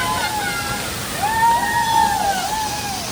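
Waterfall water pouring at a falls, a continuous close rushing roar that swells slightly midway, with a voice sounding faintly over the steady wash.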